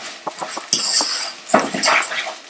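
A utensil stirs rice and sweated onions in a saucepan for salmon risotto, giving a series of close, irregular metallic scrapes and clinks with short pauses between them.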